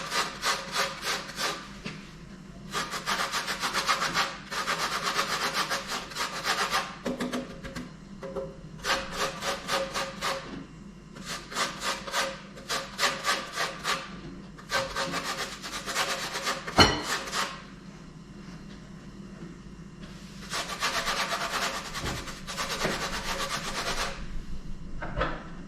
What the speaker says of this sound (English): I'm grating the skin into the cake.